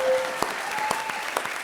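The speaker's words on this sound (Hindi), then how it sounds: "ठोको ताली" Studio audience applause at a Hindi comedy show, a short steady burst of clapping with a few sharper claps standing out.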